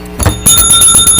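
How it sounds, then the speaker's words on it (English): A bell rings twice in a calculus classroom, two bright loud strikes with a sustained ringing tone between and after them, no talking. "A double bell."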